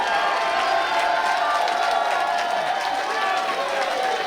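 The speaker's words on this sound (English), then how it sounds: "The crowd on their feet," A wrestling crowd at a Limitless Wrestling show in Maine roars and cheers on its feet after a tope suicida, a sustained wall of shouting and scattered clapping, with a commentator talking over it throughout.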